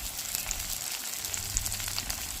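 Spices sizzle steadily in hot oil with turmeric and salt in a Bengali kitchen, a constant bright crackle and hiss holding at an even level throughout.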